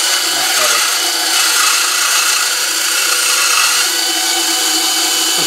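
Wood is cut with a steady, loud, continuous rasping saw for a DIY whirligig goose, up close and uninterrupted, with no talking.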